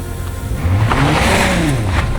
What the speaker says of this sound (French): je peux faire un burn que d'une roue